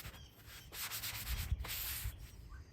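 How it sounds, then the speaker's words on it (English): Light hand sanding of plywood with 320 grit sandpaper, a steady scratchy rubbing with short back-and-forth strokes, close and fairly soft, with no talking. "Before painting, lightly sand the plywood with 320 grit."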